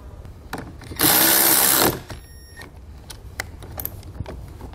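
A battery terminal nut is tightened back down with a 12 mm tool on a 2019 Jeep Wrangler, heard as one loud whirring burst of about a second, followed by light clicks and handling noises.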